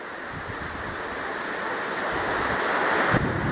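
Water streaming down the sloped rocks of the Mermaid's Tears waterfall in Jermuk, Armenia, roars in an unbroken wash of noise that swells slightly louder toward the end, with a brief bump of wind.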